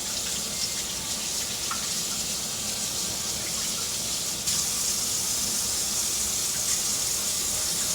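A kitchen tap runs hard into a sink as ham hocks are washed, a loud, steady rush of water that grows slightly stronger midway, with no voices.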